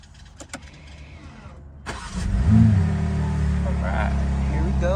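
A 2023 BMW M3 Competition RWD cranks and fires up after a short quiet spell, its engine catching with a loud rising burst and then settling into a steady, throaty idle close by, with a voice talking faintly at the start.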